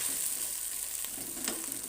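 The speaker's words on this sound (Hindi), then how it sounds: "चलो अब ये टमाटर पक जाए।" Tomato paste fries in a pan with a constant, close hissing sizzle, brief stirring scrapes rising through it, and no voices.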